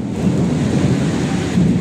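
Heavy rain pours down hard outside a house during a thunderstorm, with a deep, continuous rumble of thunder rolling under the loud, steady downpour.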